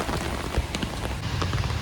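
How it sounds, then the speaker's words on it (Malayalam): Heavy monsoon-style rain in Vadakara, Kerala drums steadily on a nearby surface, with scattered louder drops splashing throughout. "നല്ല മഴയാണ് കേട്ടോ"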